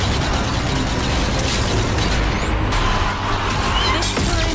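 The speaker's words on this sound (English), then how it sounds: "Some grenade throwing." Grenade explosions from the Zombie Army 4: Dead War shooter, deep booms inside a dense, loud, continuous wall of battle noise with mechanical clatter, no clear gaps between blasts.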